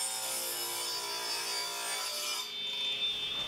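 A wooden board for a light box sign being cut to its final width, a steady rasping saw-like stroke that runs continuously and close, then eases slightly near the end, with no talking.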